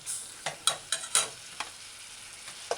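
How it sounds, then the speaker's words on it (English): Tomatoes stir-fry over medium-low heat, a quiet sizzle punctuated by a handful of quick spatula scrapes and taps in the pan, close and brief, with nothing else heard. "allow the tomato to kind of break down, cook and break down while you stir fry"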